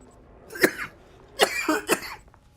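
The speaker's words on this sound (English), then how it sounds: "I hate this cough" A video game character coughs in harsh bursts, one sharp cough followed by a pair of rougher ones about half a second apart, close and clear over a quiet background.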